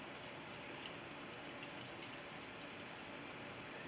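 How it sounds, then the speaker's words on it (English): Font flush liquid is poured back into its container from a jar, a faint, steady stream of liquid trickling without pause. "Just pour it back into your container."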